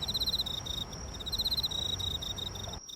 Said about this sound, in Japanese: また秋といえばコオロギの音も有名ですね。